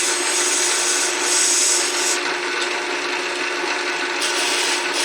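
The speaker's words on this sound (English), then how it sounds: "This is where your mini lathe tool comes in handy." Mini lathe tool grinding and rubbing against a small wooden birdhouse ornament, a loud, continuous high-pitched whirring buzz that holds steady throughout, with no talking.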